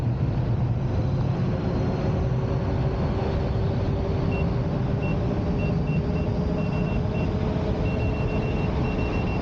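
Sherman S electric unicycle sounding an intermittent alert beep, short high tones in irregular bursts over constant loud wind and road rumble while riding.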